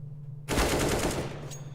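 A rapid burst of automatic gunfire in Counter-Strike, dense overlapping shots beginning abruptly and rattling for over a second, loud and close.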